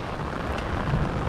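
Heavy rain pours down on a fishing pond, a dense, steady hiss of drops that fills the short stretch without a break.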